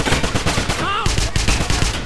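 Gunfire in the Wolfenstein video game, rapid close bursts of automatic shots in a dense stuttering rhythm, with a brief voice heard amid the shooting.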